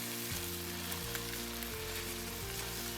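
Kale seasoned with black pepper, stirred and cooking in a pan. A quiet, continuous sizzle hisses steadily beneath a tonal musical backing.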